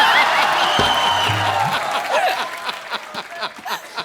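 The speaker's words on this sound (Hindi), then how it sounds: "सोनाक्षी के लिए जोरदार तालियां" Studio audience on a Hindi TV comedy show breaks into applause and some laughter, loud at first and thinning into scattered claps, with a voice heard briefly.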